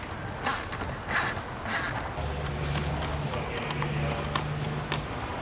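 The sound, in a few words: 10mm ratchet spanner tightening splitter bolts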